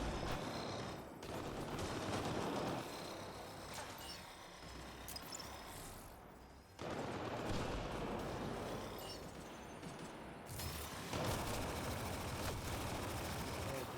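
A revving weapon in the Mass Effect video game fires long rapid bursts of dense, continuous gunfire. The bursts come in several sustained stretches with brief dips between them.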